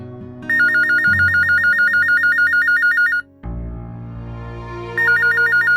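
A telephone rings in a Pakistani TV drama scene, its electronic warbling bursts loud and steady over soft background music, pausing briefly before starting again.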